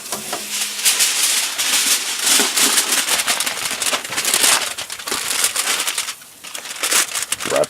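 Aluminum foil crinkles and crackles up close as it is wrapped tightly around grilled ribeye steaks fresh off the grill, with dense, continuous rustling and a brief lull near the end.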